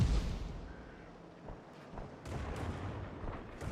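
Tank cannon fire in the online game World of Tanks: muffled booming shots and rumbling battle noise at moderate level, with several dull thuds spread across a continuous low background.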